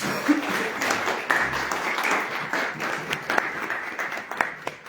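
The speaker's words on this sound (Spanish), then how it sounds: "un aplauso por este esfuerzo" An audience at an annual presentation of a report on homicide crimes claps steadily for several seconds, a dense, even patter of hands with a voice faintly underneath.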